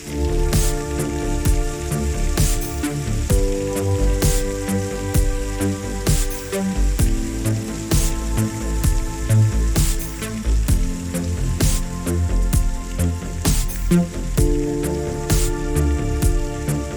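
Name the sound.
heavy rain pattering on roof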